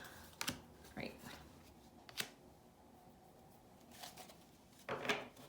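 Large tarot cards are shuffled and tossed in a few brief, uneven bursts of papery riffling and slapping, close by, with quiet pauses between handfuls.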